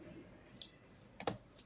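A computer mouse clicks a few times, sharp and close, with a quiet pause between an early single click and a quick cluster near the end.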